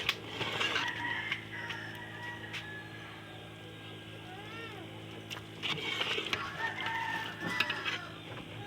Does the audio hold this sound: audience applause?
no